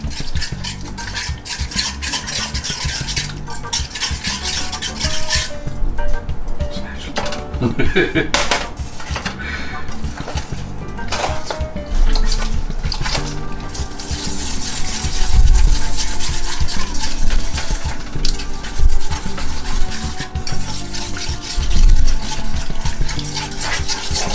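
A whisk scrapes and clatters steadily against a shallow metal pan while mixing in cream cheese, close and busy, with a faint sizzle underneath and no talking.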